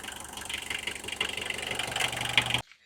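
An old Premier Padmini car engine idles steadily at close range, a low rumbling drone with a faint knocking pulse, then cuts off abruptly near the end.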